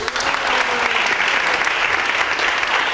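An audience at a language-teaching symposium applauds after a talk, a close, even wash of many hands clapping that holds steady from start to finish with faint voices beneath.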